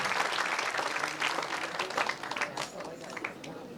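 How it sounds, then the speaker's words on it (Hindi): An audience at an event in Ravindra Bhawan, Bhopal claps together in a dense, sustained burst of applause, fairly loud and filling the hall, while a voice carries over it. "जोरदार तालियों के साथ हम उनका अभिनंदन करते"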